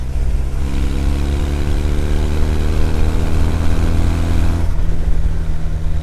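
Kawasaki W800 air-cooled motorcycle engine riding steadily in fourth gear, a loud continuous low drone with steady harmonic hum and rushing wind, engine note shifting slightly near the end.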